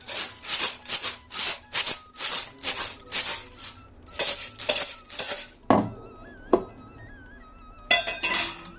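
Sankranti ellu bella is shaken in a covered container, making a steady run of rhythmic rattling swishes, loud and close, before it stops and a few knocks and brief tonal sounds follow.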